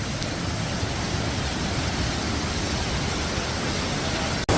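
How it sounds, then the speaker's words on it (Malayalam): Urakuzhi waterfall at Kakkayam pours with a steady, dense roar of rushing water that fills the whole clip, close and loud, with no voices over it. "ഇതാണ് ഉരക്കുഴി വാട്ടർഫാൾസ് കാണാനുണ്ട്"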